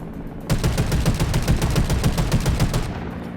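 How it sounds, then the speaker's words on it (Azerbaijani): A battleship's guns fire on enemy targets in the Delta Force video game, producing a dense, loud burst of rapid machine-gun-like shots for about two seconds, with no voices. "Düşmən hədəflərinə indi isə döyüş gəmisi ilə zərbələr endirəcəm."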